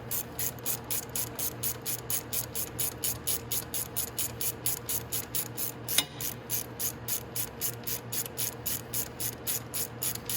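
A ratchet wrench tightening a fitting on the oil cooler of a Venom X22R Max 250cc motorcycle, clicking in a fast, steady, even rhythm close up throughout, with one sharper knock partway through.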